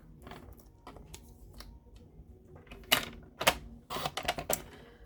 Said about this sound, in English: Just gonna take my trimmer and trim this off.